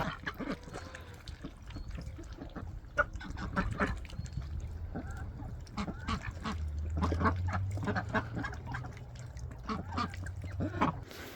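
Ducks on a backyard pond in freezing weather quack in a steady run of short, raspy calls. The calls sit fairly close, over a low hum of outdoor background noise.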